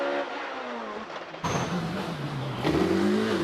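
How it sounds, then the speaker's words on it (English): Hillclimb race car at Prescott during the British Hillclimb Championship, its engine note rising loudly and continuously as it accelerates, close and alone with no talk. "Late braking for Ed Torres without a smidge of lock up"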